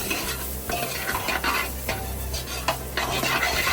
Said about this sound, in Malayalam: ഗാർലിക് ഇട്ടു അവിടെ സൈഡിൽ കൂടെ ഇളക്കി നടക്കുന്നുണ്ട്